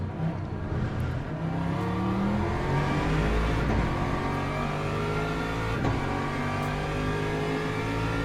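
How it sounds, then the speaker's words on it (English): An Aston race car in the racing game Le Mans Ultimate passes at Monza, its engine a sustained, loud whine with layered, shifting harmonics that holds steady throughout, with no talk. "As the car of Mr. Collier in the Aston, same car as me, passes."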